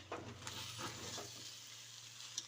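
Flattened rice chitranna (avalakki) is stirred while it fries in a pan, making a faint, quiet sizzle with a few light scraping strokes and no talk.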